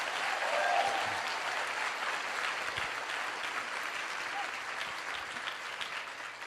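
A live seminar audience in Las Vegas applauds, a steady, moderately distant wash of clapping that swells briefly at the start and then holds evenly, with faint scattered voices.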